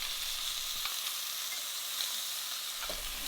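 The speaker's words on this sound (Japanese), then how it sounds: "先ほどのキューブに切った肉の端を入れて一緒に焼いていきます" Veal and cubed meat trimmings sear in a pot over medium heat, a steady bright hiss and crackle of sizzling fat running throughout with a couple of faint knocks.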